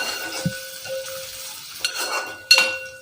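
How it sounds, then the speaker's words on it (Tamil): Onions sautéing for dum biryani, with a soft sizzle under scattered clinks and scrapes of a utensil stirring against the pan, plus a few sharper knocks near the end. "இப்போ இந்த வெங்காயத்தை வ வதக்கி எடுத்துக்கிறோம்"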